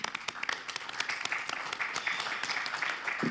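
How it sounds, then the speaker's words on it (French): An audience at the closing plenary session of a rural-affairs conference applauds a speaker, with lively, overlapping claps and distinct sharp hits forming a busy, continuous round of applause. "Merci beaucoup, Cécile. On vous applaudit."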